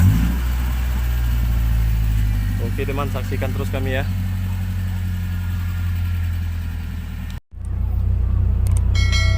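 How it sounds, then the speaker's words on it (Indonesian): An operational car's engine runs steadily with a low rumble and a brief rev, then idles, while someone talks over it in Indonesian, followed by a sudden cut and quieter idling. "kita bakal bergerak pakai mobil operasional"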